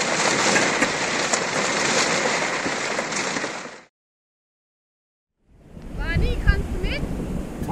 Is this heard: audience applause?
no